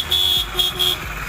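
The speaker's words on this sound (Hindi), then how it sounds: "ये देखिए दोस्तों हॉर्न हमारा काम करने लगा" A motorcycle horn with a newly installed condenser gives three loud, steady electric honks, each roughly a quarter second long, separated by brief gaps.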